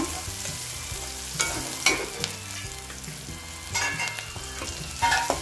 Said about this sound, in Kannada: ಒಂದು ಸ್ವಲ್ಪ ಬಾಡಿಸಿದ್ರೆ ಸಾಕು, ಯಾಕಂದರೆ ಸ್ವಲ್ಪ ಹೊತ್ತು ಕ್ಯಾರೆಟ್ನು ಬಾಡಿಸ್ಬೇಕಾಗುತ್ತೆ.